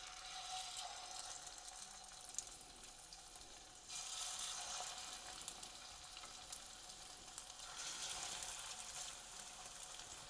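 Chicken kebabs coated in egg and breadcrumbs fry in sunflower oil over low-medium heat, giving a steady soft sizzle that swells in brighter bursts, with no voices.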